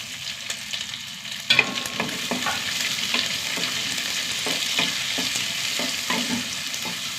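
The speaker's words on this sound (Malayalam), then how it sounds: "സവാള ഒന്ന് വഴണ്ട് വരട്ടെ" Steady sizzling of onion and green chilies frying in a pan, with occasional scrapes and clinks of stirring breaking through the continuous hiss.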